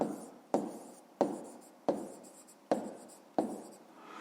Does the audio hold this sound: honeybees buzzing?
no